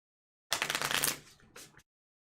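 Cards being shuffled for a Shadows of Kilforth board game session at a table, a brief close riffle of about a second followed by a shorter second burst, with no talking.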